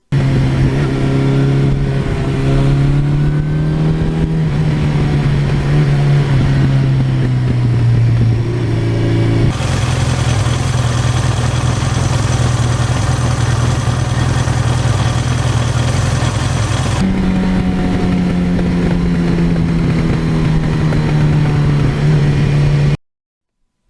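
A 1982 Suzuki GS1100E motorcycle engine runs loudly and close by, idling with a steady throb, then revving up for several seconds before settling back and cutting off at the end.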